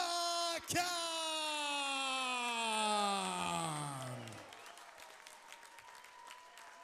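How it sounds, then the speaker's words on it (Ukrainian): Crowd applause fills a boxing arena after a WBA flyweight title fight between Artem Dalakian and Gregorio Lebron, loud and sustained with a long sliding horn-like tone over it, then fading to scattered claps and murmur. "Аплодисменты его сопернику Григорио Леброн, Доминиканская республика."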